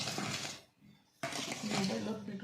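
A bowl of urad and moong dal papad dough mixture with hing is stirred together, with clinks and scrapes of a spoon on the bowl, a brief lull near the middle, then steady mixing again.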